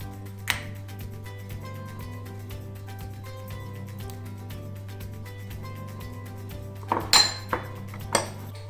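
Eggs cracked one at a time into a small separate pot for a cheesecake batter, a few sharp shell taps and clinks near the end over steady background music, close and brief.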